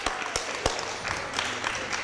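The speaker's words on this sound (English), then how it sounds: "Let's give a big round of applause." Board of Aldermen members and attendees give a round of applause in a meeting room, a few sharp close claps standing out over a softer, scattered clapping crowd.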